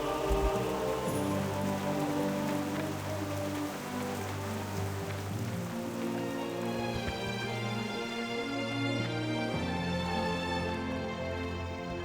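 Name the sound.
rain falling in Stormwind, World of Warcraft video game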